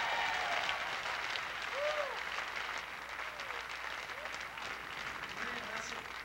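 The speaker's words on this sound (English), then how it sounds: "Let's give Jesus a big hand clap of praise tonight" A gospel concert audience gives a big round of praise clapping, a dense steady patter at moderate level, with scattered voices and whoops rising faintly above the clapping throughout.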